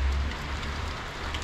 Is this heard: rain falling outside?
yes